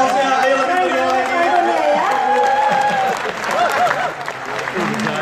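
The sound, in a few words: audience applause for Ibu Susi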